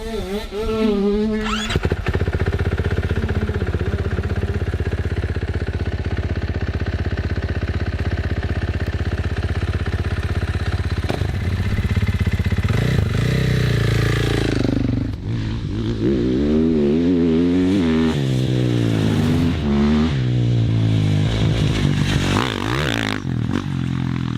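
A motorcycle cruises around a race track. The engine holds a steady drone, then rises and falls through shifting revs, with a rough, loud note close by and wind noise throughout.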